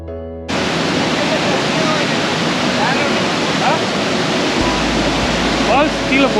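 Water of Irachilpara waterfall crashes down in a loud, close, continuous roar that bursts in after a brief quieter moment and holds steady, with faint speech-like traces over it.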